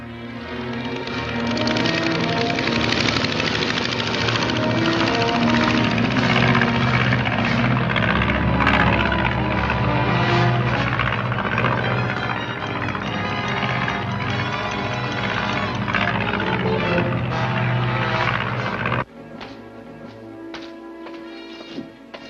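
A small patrol airplane's engine drones loudly and steadily overhead for most of the stretch, a dense continuous roar that drops away sharply near the end, with no voices.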